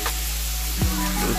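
Crappie and hybrid bass pieces frying in a pan, a continuous close sizzle with a few short stirring scrapes, no voices.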